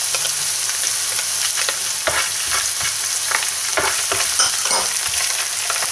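Onion and garlic sautéing in a frying pan, a loud continuous sizzle close up with occasional scraping stirs of a utensil, and no talk.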